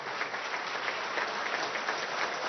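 Applause from an audience at a signing ceremony for a collective contract between Venezuela's Ministry of Education workers and the government, a dense, steady clatter of clapping with no voices over it.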